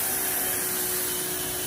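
A loud, steady hiss of a Paxcess pressure washer spraying water continuously, with a faint motor drone underneath and no voices.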